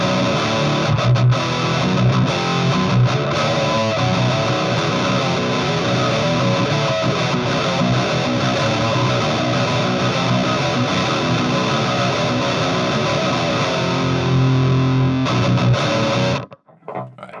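Heavy distorted electric guitar in low tuning with bass turned up, played continuously through a whiskey barrel amp cabinet, thick and loud with low-tuned chugging, cutting off abruptly near the end.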